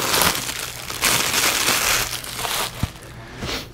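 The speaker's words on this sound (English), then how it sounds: "Comes with a nice little flag here, which I'm going to unwrap." Plastic packaging crinkles and crumples loudly up close as a small flag for a Buzzaround LT mobility scooter is unwrapped, with steady rustling bursts and one sharp tap near the end.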